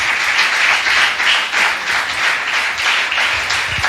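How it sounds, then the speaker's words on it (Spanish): A church congregation claps steadily, a loud, sustained applause with rhythmic swells and no talking over it, during a worship service. "denle un aplauso al Señor"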